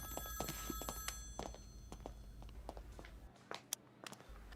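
A telephone rings repeatedly in a quiet indoor scene from a Hindi-dubbed film, the faint tonal rings sounding at regular intervals with a few soft thumps and shuffles in the background.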